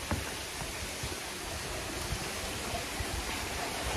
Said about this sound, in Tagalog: so dito may creek dito sa baba